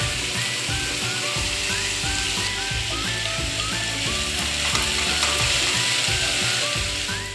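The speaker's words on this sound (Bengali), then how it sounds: "লাউগুলোকে ক্র্যাশারের সাহায্যে খুব ছোট ছোট করে কেটে আমি তেলে ছেড়ে দিয়েছি" Small crushed pieces of bottle gourd fry in hot oil, giving a dense, steady, close sizzle with bursts of crackling and a faint clatter running through it.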